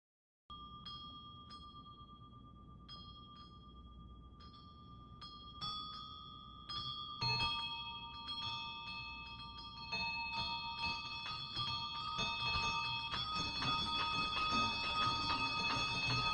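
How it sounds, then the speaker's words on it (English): Bells in a Christmas Carol radio play begin with a single bell tolling softly, then more bells join and build into a loud, continuous, layered clangor of ringing tones with no talk. "he saw this bell beginning to swing, first softly, then so loudly that every bell in the house joined in and rang also."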